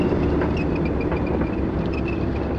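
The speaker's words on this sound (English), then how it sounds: "This one projected tanks going down." A simulated sound of tanks driving down a hill, projected as a deception effect, gives a continuous heavy rumble with faint clanking and squeaking over it, steady and loud throughout.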